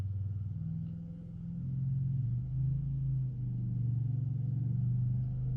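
A neighbor's four-wheeler rides around outside, heard as a low, muffled engine rumble that swells and shifts in pitch as it moves, fairly distant and steady with no talk.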